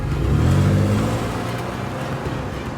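A car pulling away and accelerating hard, its engine rising in a loud close roar that peaks early then eases into a steadier drone, with no voices over it.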